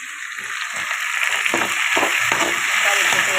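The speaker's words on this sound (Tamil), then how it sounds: "தக்காளி போட்டு வதக்கிடலாம்." Chopped tomatoes sizzle and fry in a hot pan over cooked onions, a steady bright crackle with occasional stirring scrapes, close and continuous.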